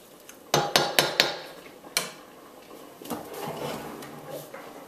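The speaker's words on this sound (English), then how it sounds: "And now we stir. Make sure it's not stuck in the bottom." Spoon stirring and scraping steamed rice in a pot, several close, sharp knocks against the pot in quick succession, then a single knock and quieter scraping.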